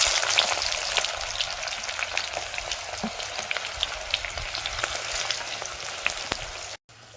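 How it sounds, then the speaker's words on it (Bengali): Onion, garlic and bay leaf sizzling steadily in hot oil with caramelised sugar in a clay kadai for a home-style country chicken curry, a dense close frying hiss with scattered pops, cutting off just before the end. "চিনিটা লাল হয়ে গেছে, এবার তেজপাতা, পেঁয়াজ আর রসুন দিয়ে দেবো।"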